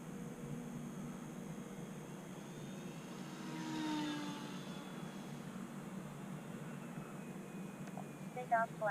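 An E-flite UMX Air Tractor radio-controlled plane makes a high-speed pass, a faint rising and falling electric whine that swells near the middle then fades, with low background hum.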